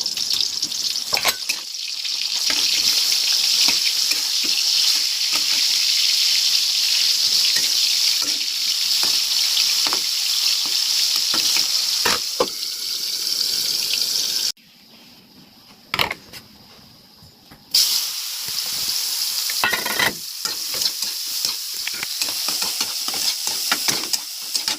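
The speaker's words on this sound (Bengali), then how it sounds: "সয়াবিন ভাজা হয়ে গেছে" Soybean chunks fry in hot oil with a bright, continuous sizzle close by, broken by sharp stirring clicks and a short quiet gap before the crackling resumes.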